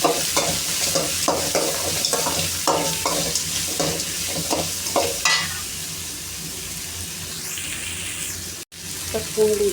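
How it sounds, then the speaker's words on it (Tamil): Banana flower sautés in hot oil with curry leaves, a close sizzle broken by a steady series of scraping stirs, then softer frying and a few clatters near the end. "இப்போ வாழைப்பூ 5 கட்டு அந்த வாழைப்பூ எண்ணெயில் வணக்கிக்கிறேன்."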